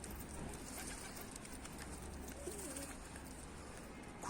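Soft pigeon cooing drifts through a constant outdoor hiss, faint and low, a short murmuring call rising briefly in the middle.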